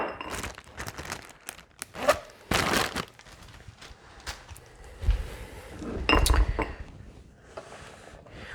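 Clear ice rock being handled for a cocktail, giving a series of sharp clinks, knocks and crinkly handling noises, close and fairly quiet, with a few louder knocks and scrapes spread irregularly through the stretch.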